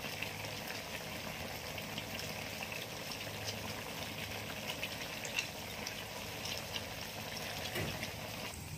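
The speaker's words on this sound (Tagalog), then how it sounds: "Kumukulo na po." A pot of ginataang, a coconut-milk dish seasoned with salt and fish sauce, simmers in a steady low bubbling wash with soft broadband hiss, constant throughout and heard alone without talk.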